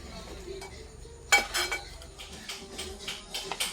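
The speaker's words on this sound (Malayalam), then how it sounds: "ഇത് നല്ല രീതിയിൽ ഇളക്കി കൊടുക്കണം ഇത് ഒന്നിച്ച് ശർക്കരയും തേങ്ങയും പൊടിയും കൂടെ ഒന്നിച്ച് മിക്സ് ആകത്തുള്ളൂ" A spoon stirring jaggery, grated coconut and powder together in a pot, with intermittent scraping clinks against the metal, louder in a few quick bursts.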